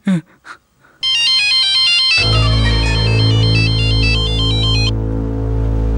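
A loud electronic phone ringtone plays a repeating melodic pattern over a sustained low tone, after a few brief sounds at the start.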